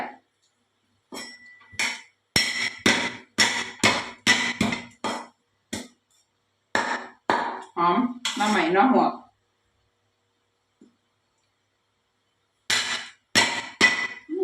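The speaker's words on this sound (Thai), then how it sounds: "สูตรนี้ก็เสียงดังเนี่ยเพราะว่าใส่ทุบอ่ะ" Rapid bursts of pounding in a mortar for a bamboo shoot curry, a pestle striking repeatedly with clattering, clinking hits, broken by pauses and brief speech between.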